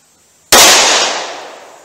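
Single sharp gunshot from a .327 Federal Magnum fired in a Ruger LCR revolver, a loud sudden crack followed by a decaying ring-out.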